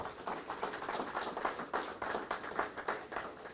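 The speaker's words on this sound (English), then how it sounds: "let's give him a round of applause for that" Applause from an audience at a sod turning ceremony for a home of football, steady uneven clapping from a small crowd at moderate distance, faint and continuous for a few seconds.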